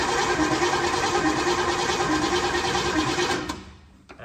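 A big block Chevy engine cranks over on the starter in a rapid, even, rhythmic churn for a few seconds, then stops abruptly, recorded close and without talk.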